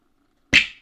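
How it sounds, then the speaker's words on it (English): One snap or rim shot drum sample triggered in Logic Pro X, a sharp, bright crack that strikes after a moment of silence and decays quickly. "snap, and that's our rim shot"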